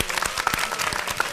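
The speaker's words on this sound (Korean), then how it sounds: "우리 구테스 총장님께 다시 한번 열화와 같은 박수 보내주십시오." An audience at a Korean talk event with UN Secretary-General António Guterres gives dense, continuous applause, many hands clapping at once, loud and close.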